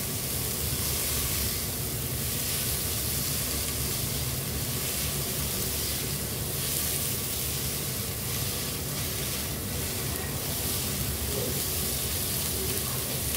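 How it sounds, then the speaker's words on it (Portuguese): Bell peppers and meat sautéing in a pan, giving a steady, dense sizzle and hiss that holds even for the whole stretch with no talking over it. "E agora eu vou deixar refogando até os pimentões murchar um pouco"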